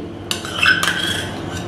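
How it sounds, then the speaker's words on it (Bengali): A spoon stirs beaten curd into kheer in a bowl, making a short clink and a brief scraping swirl against the bowl, close and clear, with no voices. "সেই ফেটানো দইটা এখন আমি দিয়ে দিচ্ছি"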